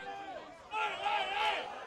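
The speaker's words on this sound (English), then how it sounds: "The crowd going berserk here now" Spectators roar at an amateur Australian football match between Glenunga Rams and Salisbury after a goal, a broad swell of crowd noise rising under a commentator's voice.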